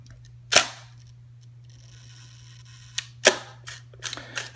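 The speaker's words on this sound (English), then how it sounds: "I can guarantee you that the 1 second shutter speed is inaccurate." Hasselblad 500CM medium-format camera shutter fired at a slow 1 second setting: a sharp opening click, about three seconds of near quiet, then a closing clack followed by several smaller mechanical clicks, close and alone over a low steady hum.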